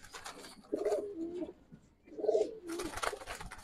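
A racer pigeon, a female grizzle, gives two deep throaty coos about a second and a half apart, close by, with faint rustling and background noise in between.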